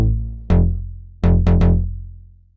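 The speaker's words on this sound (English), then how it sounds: "So this bass patch just sounds like this." A punchy synth bass patch from the Unison Star preset plays a few short notes, one long hit then a quick triplet of stabs, each with a bright resonant attack that quickly darkens and decays.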